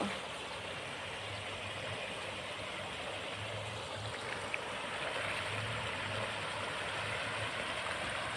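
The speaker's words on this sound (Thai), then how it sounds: "น้ำไหลเย็นสบายสบายค่ะ" A cool stream flows steadily with a broad, constant rushing wash of water, continuous and even throughout, with a faint low hum beneath and no voices.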